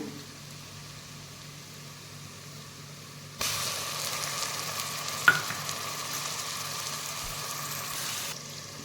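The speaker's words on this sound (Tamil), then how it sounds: "இஞ்சி பூண்டு பேஸ்ட்டு போட்டுக்குங்க" Ginger garlic paste stirring and frying in oil for chicken biryani: a quiet low hiss that jumps to a steady louder sizzle partway through, with a single sharp scrape or clink of the utensil, no talking.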